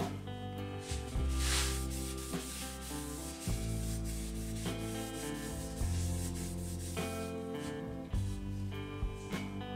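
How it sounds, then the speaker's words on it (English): Minwax wipe-on poly being rubbed by hand onto off-center turned wood spinning on a lathe, a steady close rubbing and wiping texture that carries through the whole stretch over a low humming background, with no talk. "just coat this with Minwax wipe-on poly after this soaks in"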